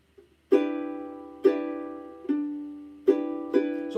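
A guitar plays a chord-melody phrase in single down-up strums, four or five chords struck in a loose rhythm and each left to ring, close and quiet with no voices.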